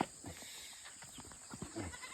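Goats bleat on a farm where a goat has recently given birth, a few short bleats heard faintly at a moderate distance over low background noise.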